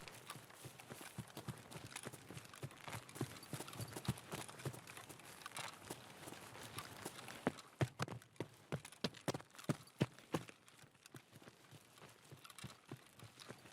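Rapid running footsteps of a teammate in Escape from Tarkov on the Shoreline map, a steady stream of quick close steps that grow sharper and more separated toward the end, with no talking.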